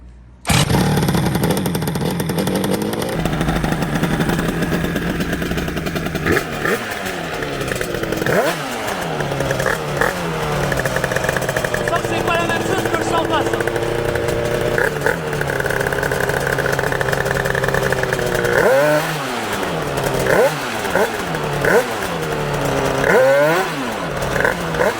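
A scooter engine sputters into life and idles with a buzzy, close rattle. It then revs up and down several times in rising and falling whines over about twenty seconds.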